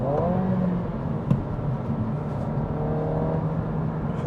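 A Honda Civic Si engine blips during a rev-match downshift, giving a short rising rev over a steady low engine drone, close and moderately loud with a brief click.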